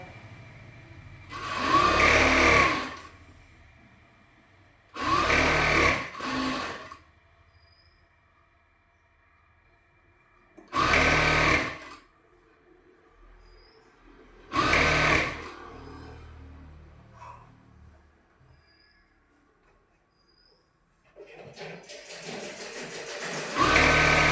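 A domestic sewing machine stitches a nightie in five separate bursts of loud, rapid whirring, with quiet pauses between runs and no talking.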